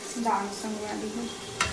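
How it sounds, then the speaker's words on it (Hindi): Lentils frying in a frying pan, a short burst of stirring and sizzle with a brief scrape near the end, close and moderately loud with no voices. "दाल को फ्राई पैन करेंगे।"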